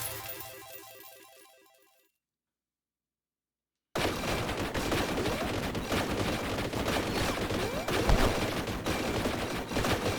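Bolt gun firing in Warhammer Survivors, a dense continuous burst of rapid gunfire that starts abruptly after a short chiming jingle and two seconds of silence, loud and sustained.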